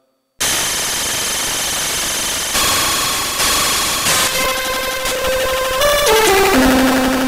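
A DIY Arduino-based wavetable/FM synthesizer, powered over USB, produces loud, harsh, noisy tones that grow busier over several seconds, then ends with distinct pitched notes stepping downward, with no talking.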